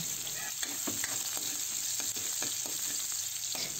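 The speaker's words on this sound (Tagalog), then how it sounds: "At kapag mainit na ang ating mantika, ilagay na natin ang ating hiniwang bawang." Sliced garlic sizzles and fries in hot oil in a pan, a steady close crackling hiss with small pops and occasional stirring scrapes, no voices, while cooking chicken with kangkong.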